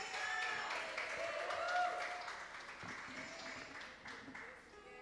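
A church congregation applauds during a family worship service, the steady, moderately distant clapping of a crowd carrying on without a clear break and blending with faint voices.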